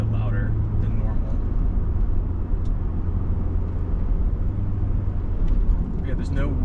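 Road traffic rumbles past outside a 2004 Mercedes CLK500 convertible, a steady low drone with a few louder passing vehicles; brief talk over it at the start and end.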